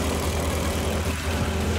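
A Mercedes 603 engine idles under an open hood, giving a steady, dense, continuous rumble from start to finish, close and loud, with no voices.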